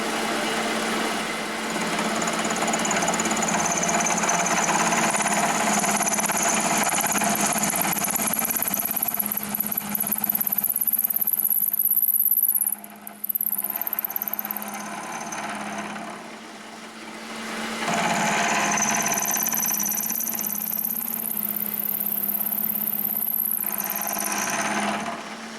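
A machine cuts flats onto a diamond burnishing tool, a loud, continuous, close whining and grinding roar that keeps going for a long stretch, dips out briefly in the middle, then resumes at full strength, with no voices.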